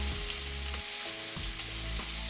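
Onions sizzle steadily in a hot pan for a queso fundido, with a few scraping stirs through the frying and the burnt bits lifted off the pan's base. The sizzle is loud, close and continuous.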